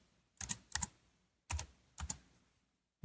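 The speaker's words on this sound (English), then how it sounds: "So if we want to do another search, we can type in search" Someone types on an OMOTON ultra-slim Bluetooth keyboard for iPad. There are several soft, close key taps in small quick clusters with short pauses between them, in a quiet room.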